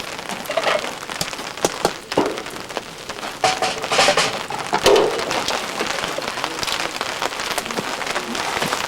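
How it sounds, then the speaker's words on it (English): Rain patters steadily at an old camp beside a fire where coffee is brewing, the drops tapping densely on nearby surfaces for several seconds with no voices. "It'll rain all night once in a while."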